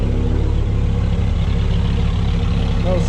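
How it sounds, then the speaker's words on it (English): Up close, the Viper V10 in a 2004 Dodge Ram SRT-10 rumbles at idle, a loud, low, steady throb with a faint pulsing rhythm that continues unbroken. "And a little rumble. Yep, hear the engine."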